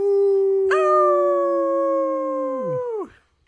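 A single loud wolf howl sound effect from a podcast intro: a long sustained tonal cry that rises sharply, holds steady, then drops and fades out, heard alone and up close.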